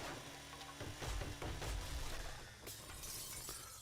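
Glass shattering in the video game 7 Days to Die, a loud crash followed by several breaking bursts and tinkling debris over a dense in-game background, with no talking.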